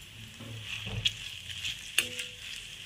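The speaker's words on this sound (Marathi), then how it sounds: "हे 2 कांदे कापलेले आहे ते मी त्याच्यात टाकत आहे। कांदे परतवून घेत आहे।" Two chopped onions sauté in a pan for a prawn curry, giving a steady, soft sizzle. Two sharp clicks of a stirring spoon cut through the hiss.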